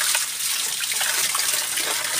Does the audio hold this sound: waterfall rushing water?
yes